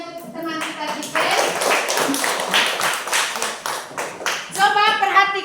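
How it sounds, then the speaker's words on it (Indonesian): Children in a classroom clap for a classmate, a dense burst of hand claps filling the middle seconds, with young voices chattering and calling out before and after. "Ya, tepuk tangan untuk teman kita tipe."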